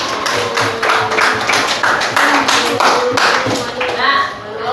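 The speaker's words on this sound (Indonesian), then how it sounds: "Beri tepuk tangan untuk Ahab" A classroom group claps for a participant during an Islamic religious studies lesson. The claps are close, loud and uneven, with children's voices mixed in throughout.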